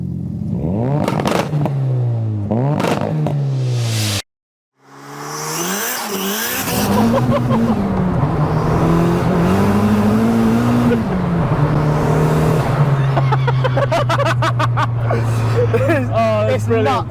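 Fully built 330 bhp Toyota Glanza engine starting and revving, then driving with a steady droning note that rises and falls through gears, loud and close inside the cabin, with people talking over it.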